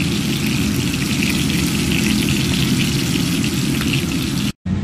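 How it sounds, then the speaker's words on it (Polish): Breaded minced meat cutlets fry in a pan, giving a steady, dense crackling sizzle that runs loud and unbroken before cutting off abruptly at the end. "Robię kotleciki w obtaczą bułce tartej i zaczynam smażyć."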